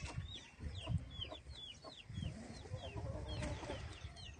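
Roosters and hens at a morning feeding cluck in short repeated calls at close range over a soft background rustle.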